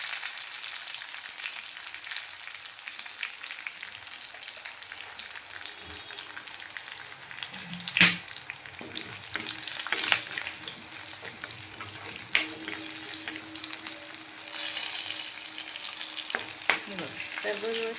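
Cumin seeds sizzle in hot oil in a pan while dhokla tempering is made, a steady soft crackle broken by a few louder pops and stirring scrapes.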